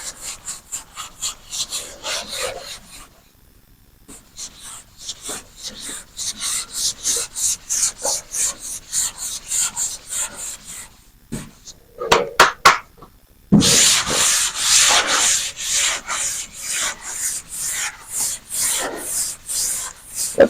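Block sanding over a guide coat on an auto body panel, a steady back-and-forth abrasive rasp in regular strokes, close and loud, with a short pause partway before louder, faster strokes resume.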